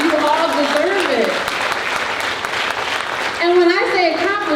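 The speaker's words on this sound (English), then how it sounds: "Can I get a round of applause for that?" Applause from the audience at a school district convocation breaks out between speech segments, bursts of clapping overlapping a voice at the start and returning near the end, with a speaker talking through much of it.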